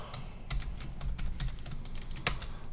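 A password is tapped out on a computer keyboard, a quick, close, fairly quiet run of irregular key clicks with one sharper press near the end.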